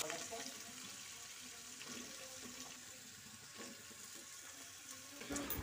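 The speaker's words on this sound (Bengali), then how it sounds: "ফোড়নটা কয়েক সেকেন্ড ভেজে নেওয়া হয়ে গেলে এর মধ্যে সবজিগুলো দিয়ে দিচ্ছি।" Vegetables go into hot oil with briefly fried whole spices for a vegetarian khichuri, producing a quiet, steady hiss of frying that stays even throughout and swells slightly near the end.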